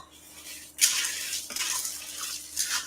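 Noodles being stirred around a full pot on a stove, with scraping and sloshing strokes, a sharp clatter near the start and another swell toward the end, close and fairly loud with no talking.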